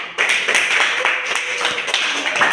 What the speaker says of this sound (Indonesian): Tepuk tangan buat Eca